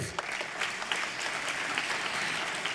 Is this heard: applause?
yes